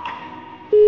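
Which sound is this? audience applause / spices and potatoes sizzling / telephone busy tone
telephone busy tone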